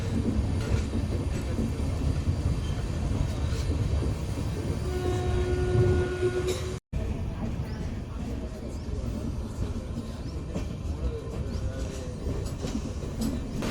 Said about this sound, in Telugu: షెడ్యూల్ సమయానికి మన ట్రైన్ చర్లపల్లిలోని 6వ నెంబర్ ప్లాట్ఫామ్ నుండి బయలుదేరింది